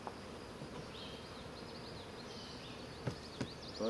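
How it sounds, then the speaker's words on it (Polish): A strong honeybee hive, shortly after package installation, gives off a steady, dense drone with individual bees zipping close by and a few light knocks near the end. "To jest dźwięk silnego ula."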